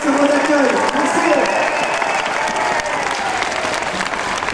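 An audience at an ADMD event applauds steadily, a dense continuous wash of clapping heard close, with a voice briefly audible over it at the start.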